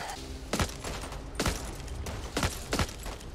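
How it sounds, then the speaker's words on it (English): In-game gunfire from a weapon in Back 4 Blood, with sharp shots landing in close pairs, roughly two doubled bursts, loud and near over a low game background. "I'm getting double shots here."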